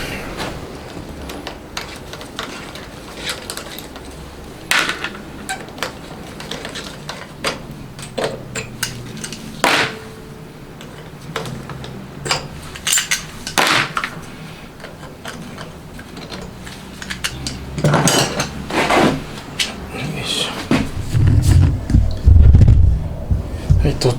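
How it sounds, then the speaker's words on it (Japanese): Metal gears and parts clink and tick intermittently as gears are pulled from a homemade DOHC cylinder head for an FIM152 motorcycle engine, close up with scattered sharp clicks and knocks. "まずギアを全部外しますね"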